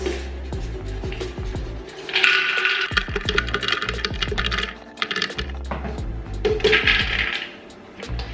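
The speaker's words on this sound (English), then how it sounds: "We're going to pour in our hazelnuts." Hazelnuts rattle and clatter into a blender in rapid bursts, a pouring cascade of clicks and taps repeated in two waves.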